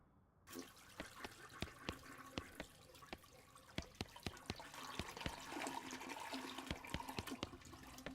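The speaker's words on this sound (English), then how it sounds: "Man, this toilet's taking a long friggin' time to flush." Toilet flush in the West of Loathing video game, a long rushing gurgle of water running on and on, punctuated by repeated sharp clicks.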